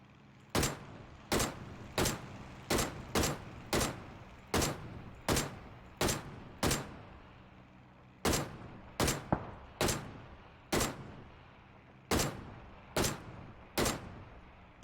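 Gunshots ring out in a video game, sharp loud cracks fired in quick irregular bursts of two or three, with brief gaps between volleys.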